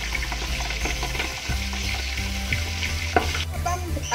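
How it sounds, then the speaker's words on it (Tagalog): Pork leg (pata) fries in oil with a loud, continuous bubbling sizzle, close by, with a few soft knocks and stirring sounds and no speech. "Iprito ulit natin ito ng around 7 minutes."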